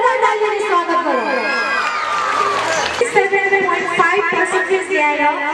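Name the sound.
crowd applause and cheering at school event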